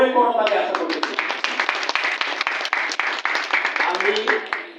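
Audience applause for newly elected club leaders at an election results announcement, a dense, steady wash of many hands clapping close by that starts after a brief voice and carries on for several seconds.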